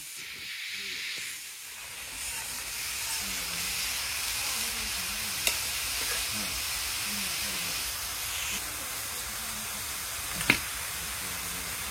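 Vegetables fry in oil with spices during village cooking, giving a steady close hiss and sizzle that goes on throughout, with a couple of sharp clicks and faint low murmurs underneath.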